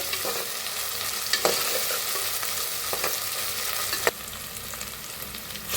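Garlic, ginger and green chili frying for masala rice, a loud continuous sizzle with occasional scrapes and clatters of a stirring spoon in the pan.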